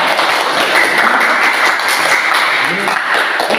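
An audience claps in a school presentation setting, dense continuous applause filling the whole stretch at a loud, even level.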